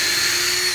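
A power drill pre-drills holes in pieces of wood for building an IBC aquaponic grow bed. It gives a steady, high, close whine that stays level for under a second, with no talk.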